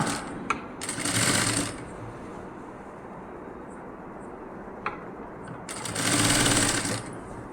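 A sewing machine stitches piping onto a nighty in two quick, loud bursts of rapid mechanical chatter. A quieter lull with faint clicks separates them.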